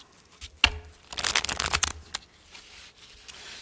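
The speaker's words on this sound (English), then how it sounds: "Shuffle again, just" Tarot cards being shuffled: a sharp tap, then a dense burst of riffling and flicking lasting about a second, followed by a few lighter card slides. Close and fairly quiet, with no voices.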